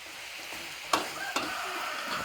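Cabbage stir-fried in a pan with sun-dried pork, a steady soft sizzle broken by two sharp scraping strokes of the utensil, close and fairly quiet, with no talking.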